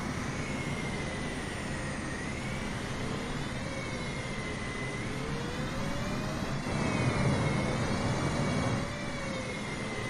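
Boeing 737-800 jet engines spool up with thrust reversers deployed in Microsoft Flight Simulator 2020, a steady loud roar with whining tones that rise and swell, and no voices.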